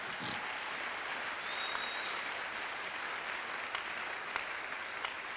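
A church congregation claps together in a steady, moderately distant wash of applause, with a few sharper individual claps standing out near the end.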